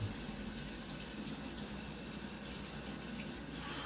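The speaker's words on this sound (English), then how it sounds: "We'll finish washing a couple more things." Tap water runs steadily into a sink while a few things are washed, a constant close splashing hiss with no voices.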